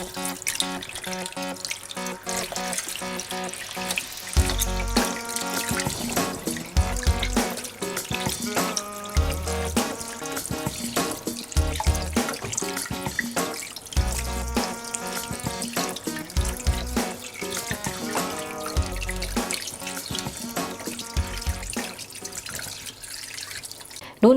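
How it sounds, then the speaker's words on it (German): Chicken wings are washed under a running kitchen tap: a continuous stream of water splashes into the sink, with sloshing and dripping as the wings are rubbed and turned. "Als erstes werde ich jetzt die Hähnchenflügel gut auswaschen."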